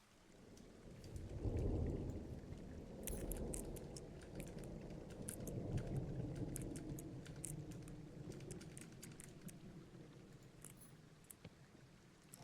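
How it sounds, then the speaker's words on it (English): A thunderstorm with rain in the video game Firewatch: low rolling thunder swells and fades several times beneath a continuous rain hiss, with scattered sharp drop ticks growing more frequent later. "Oh, and there's a storm? Yippee."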